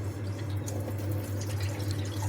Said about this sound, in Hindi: ये करेलों की धुलाई चल रही है